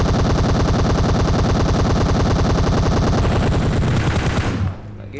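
Rapid automatic gunfire in the battle-royale game PUBG, a loud, continuous close burst of shots lasting several seconds before cutting off sharply.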